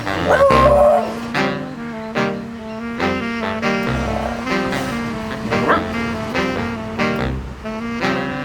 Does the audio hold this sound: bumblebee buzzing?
no